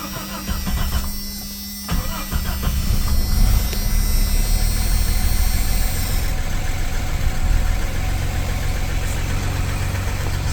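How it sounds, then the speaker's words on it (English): A 1993 Jeep Cherokee engine idles high, heard from inside the car: a loud, steady mechanical drone with a knocking texture and a shift in pitch partway through, with no talk. "It's idling really high."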